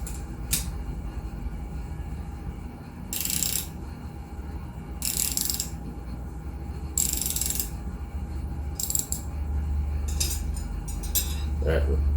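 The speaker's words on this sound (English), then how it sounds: "I gotta put the wrench on it" A wrench ratchets on a go-kart live axle nut in short bursts of rapid metallic clicking, about six separate runs spaced a second or two apart, close and clear over a low background hum.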